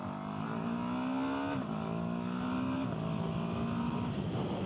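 A Ducati Hypermotard V2 motorcycle engine revs loud and close, the pitch climbing in steady pulls, dropping at gear changes and climbing again, with strong continuous roar and no talk.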